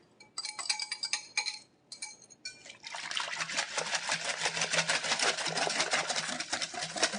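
Egg yolks are beaten into milk in a batter bowl, first with a few halting clinks, then a fast, steady rhythmic tapping and sloshing of the utensil against the bowl, fairly quiet.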